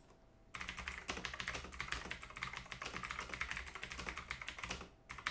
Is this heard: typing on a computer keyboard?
yes